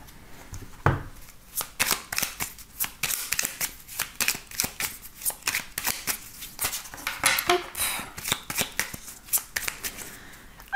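A deck of oracle cards being shuffled, with a steady run of crisp riffling and slapping strokes that repeat quickly and evenly, close up and moderately loud with no talking.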